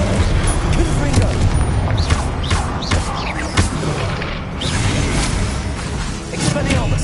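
Repeated Confringo blasting-spell explosions in the Hogwarts Legacy video game: dense booming, crackling bursts one after another, loud and busy with constant combat noise and a voice calling out spells over it.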